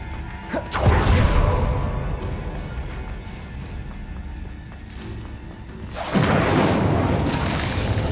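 An Incendio fire spell is cast in Hogwarts Legacy: a loud whooshing burst of flame flares up, roars and fades, and then a second fiery blast follows several seconds later.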